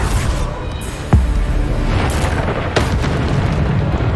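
Bombarda explosion spell in Hogwarts Legacy, two sharp booming blasts about a second and a half apart over a dense, noisy layer of combat effects.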